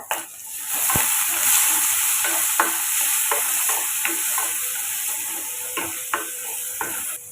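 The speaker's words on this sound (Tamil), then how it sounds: "முள்ளங்கி தேவையான உப்பு சேர்த்து வதக்கி விட்டுக்கோங்க" Chopped radish with salt sizzles as it is sautéed in a pan for a radish and moong dal kootu. The frying stays steady throughout, with clear scraping stirs and a few sharp clinks of the spoon against the pan.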